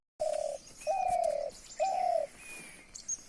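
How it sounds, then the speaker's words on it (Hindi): Birds in the misty hills around Bhimtal sing alone, three long, steady tonal calls at close range with a few thin, high chirps and a short final note between them. "ये आप आवाज़ सुन रहे हैं, ये बर्ड देख रहे हैं"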